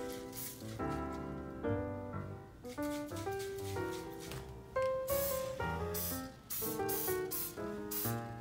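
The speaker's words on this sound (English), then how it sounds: "We're gonna spray it with some cooking spray again" Several short, sharp hissing bursts of an aerosol cooking spray onto chicken for the air fryer, repeated at uneven intervals over soft background music.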